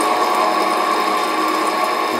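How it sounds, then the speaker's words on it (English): Steady, dense whir of cooling blowers and fans on a Hengli HSA1505 belt furnace, loud and constant with a humming, droning tone and no pauses. "you can hear the blowers ramping up, the fans."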